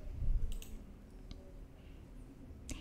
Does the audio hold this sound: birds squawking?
no